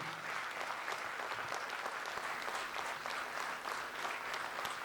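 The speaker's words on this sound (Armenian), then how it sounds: "Մի հատ բարձր ծափարենք իմ սաներին" An audience at a vocal studio concert applauds students with dense, sustained clapping from a crowd that stays even in loudness throughout.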